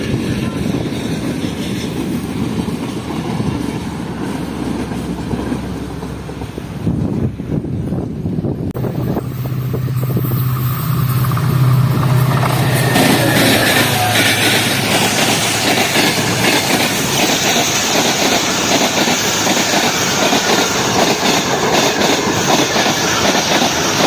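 The Rahman Baba Express, a passenger train, rushes past at speed at Dabheji with a loud, building roar, rhythmic wheel clatter and gusts of wind buffeting close by.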